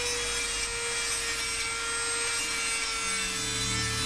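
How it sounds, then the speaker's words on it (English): A Dremel rotary tool fitted with a rounded sanding drum smooths titanium parts for a 10mm hi-capacity 1911 build, giving a steady continuous whir with a fixed motor tone and an abrasive rasp running throughout, close and alone. "the Dremel, since it's got that rounded sanding drum, does a pretty nice job working on the inside of a curve there"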